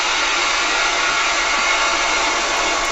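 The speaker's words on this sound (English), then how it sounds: "that's the brake going on, so the sound changes note as you increase or decrease speed" A steady, loud electric whirring hum from a 5-inch gauge Class 35 diesel locomotive model's sound unit while braking, holding a continuous tone throughout with no voices.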